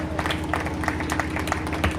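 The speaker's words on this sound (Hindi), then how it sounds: "माननीय सांसद महोदय के लिए जोरदार तालियां बजाएं" Crowd applause for a member of parliament at the closing of a cricket tournament, dense rapid clapping over a steady low hum from the sound system.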